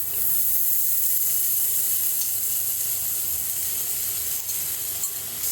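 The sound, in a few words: soaked freekeh added to a pan of sautéed onions and peppers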